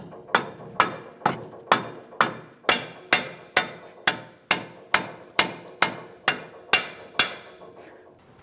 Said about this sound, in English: If you need to, you can use a rubber mallet and tap it in.